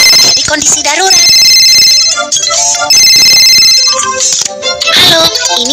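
An office telephone rings in a Baby Bus fire safety game for children, a loud electronic ringtone repeating over a bright musical game soundtrack with voices.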